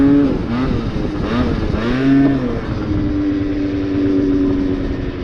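Yamaha Zuma pre-bug scooter with drum brakes, its small engine revving loudly and close during a wheelie, pitch rising and falling in a few surges before holding a steady buzzing drone.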